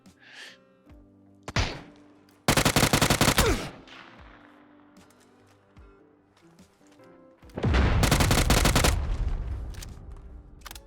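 Gunfire in the battle royale game PUBG: two loud bursts of rapid automatic shots, one short and one longer, separated by quieter game sounds and a few single thuds.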